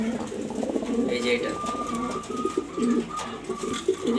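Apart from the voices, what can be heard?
pigeons cooing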